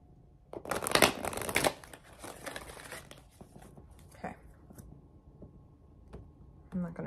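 Tarot cards riffle and slide in a loud rustling burst, followed by softer scattered taps and shuffles, with a voice speaking nearby.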